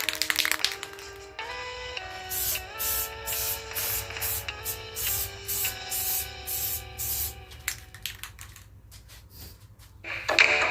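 Spray paint is applied to a 1941 Plymouth coupe scale model in a run of short, hissing bursts with brief pauses between, close and moderately loud.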